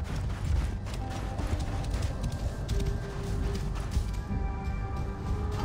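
Horse hooves galloping in Assassin's Creed Origins near the pyramids, a steady rapid clip-clop with creaking tack over a dense ambient game bed, moderately close with no talk.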